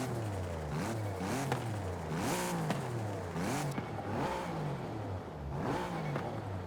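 Audi RS5 engine in Forza Horizon revving repeatedly in rising and falling sweeps, with turbo whoosh and brief clattering shifts, steady and close with no talk.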